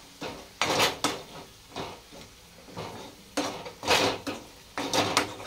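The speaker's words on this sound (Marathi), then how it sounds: "मसाला एकदा परत हलवून घ्यायचा" A spoon scrapes and knocks around a pot while masala for a spicy bangda fish curry is stirred, several distinct bursts of metallic scraping with short quiet gaps between, close and clear, no speech.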